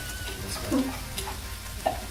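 A wooden spoon stirring and scraping food in a frying pan, with a few soft scrapes and taps over a low background sizzle, close and fairly quiet.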